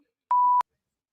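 A single sharp censor bleep, a pure steady tone lasting about a third of a second, cuts in loudly against near silence during a live wrestling watch party.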